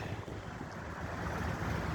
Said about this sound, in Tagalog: Mahangin guys, mahangin. Sobrang hangin.